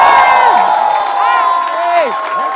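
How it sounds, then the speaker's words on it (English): A comedy show audience at an EIC vs Bollywood event cheers, whoops and applauds a pair of comedians, a loud, dense crowd roar that holds steady throughout with scattered high shouts rising above it. "can we have a round of applause for Sapan and Azeem Banatwala?"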